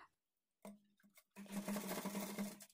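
A sewing machine stitches piping cloth for a lined blouse, with a short motor burst followed by a longer steady humming run after a pause.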